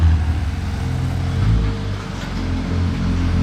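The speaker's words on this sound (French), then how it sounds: "Petit convoi McLaren de Belle Artura" A small convoy of McLaren Artura sports cars driving by in Monaco, a mid-pitched engine rumble that swells and eases as they pass.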